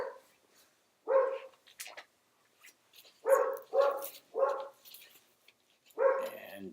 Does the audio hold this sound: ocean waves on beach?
no